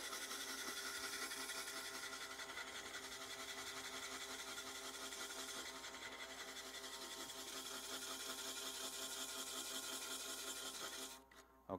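An electric sander works steadily across an interior wood surface, a continuous close abrasive whir that cuts off abruptly at the end.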